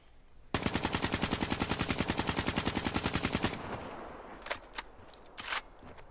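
A KN44 assault rifle fitted with a Varix sight fires one long, rapid, evenly paced automatic burst in Black Ops 3, loud and close, then stops, leaving a few scattered bangs and softer noises.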